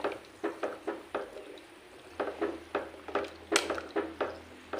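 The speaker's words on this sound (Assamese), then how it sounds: "এইদৰে লৰাই দিছোঁ এবাৰ" Elephant apple pickle with salt being stirred in a pot, a spoon scraping the metal in a steady series of short, evenly spaced strokes close by.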